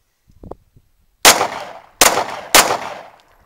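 Three sharp pistol shots fired on a live-fire range, loud and close, the first standing alone and the last two in quicker succession, each with a short decaying tail after faint handling noises.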